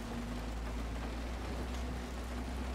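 Steady rain in the video game Road 96 hisses continuously with a low background hum, an even wash of drops and no voices.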